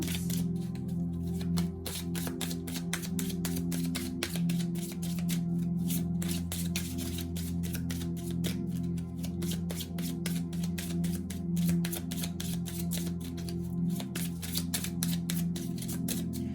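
A deck of tarot cards is shuffled continuously and close up, with quick, dense riffling and flicking that carries on without a break.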